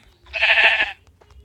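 A single sheep bleat in a video game, a short close nasal call lasting about half a second, followed by faint soft sounds.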